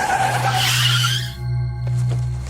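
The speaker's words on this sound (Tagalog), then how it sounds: "Hindi siya sigurado dahil agad natapakan ni Ryan ang preno" A car brakes hard, its tires skidding in a loud, steady screech that holds for about a second and a half before easing into a lower rumble, with no voices.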